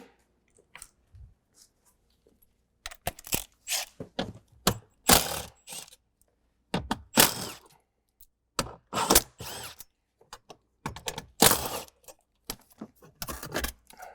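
Bolts are taken out of the metal knee bolster under the dash of a Ford Escape, with bursts of ratchet or drill whirring and clicking and short metallic clatters spread across the stretch, close and fairly loud.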